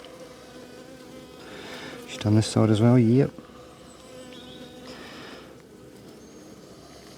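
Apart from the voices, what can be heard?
honeybees buzzing around an opened beehive frame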